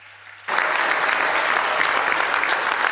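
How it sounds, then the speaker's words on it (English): Conference crowd at the Landfills2Landmarks 2025 industry event bursting into loud, dense applause after a quiet moment, sustained clapping filling the room to the end. "Let's give ourselves a big round of applause."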